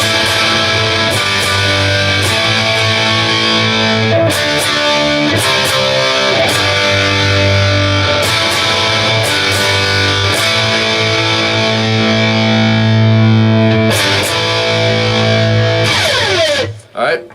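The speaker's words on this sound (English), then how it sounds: "So some open chords with distortion." Distorted electric guitar strumming open chords in standard tuning, loud and sustained, ringing between strums and ending with a short pick scrape.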